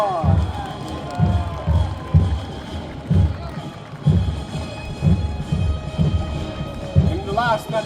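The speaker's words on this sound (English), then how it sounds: "So please, big applause for our lion, Heinrich von Wittelsbach!" A crowd at a Renaissance festival tournament in Koprivnica claps and cheers in loud, rhythmic bursts roughly every half second, while a voice carries over the noise.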